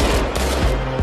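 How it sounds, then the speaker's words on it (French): A short, loud burst of rapid gunfire rings out on Yafo street in Jerusalem, several close shots fired in quick succession. "nous vous signalons des tirs rue Yafo"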